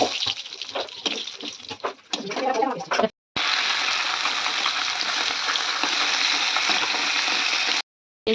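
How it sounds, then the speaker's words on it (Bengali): Fish fries in a pan in a home kitchen, giving a steady, dense sizzle that runs almost continuously, broken by two short silent cuts, with some stirring clatter early on. "দেখতে পাচ্ছেন মাছটা আমার ভাজা হয়ে গেছে।"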